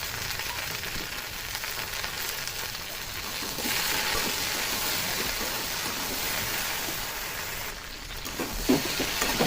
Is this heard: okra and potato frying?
yes